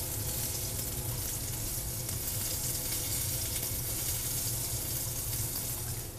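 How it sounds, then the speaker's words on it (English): U.S. farm-raised catfish frying in hot oil gives a loud, steady, dense sizzle that fills the whole clip without a break, with no voices over it. "As the catfish here is sizzling away"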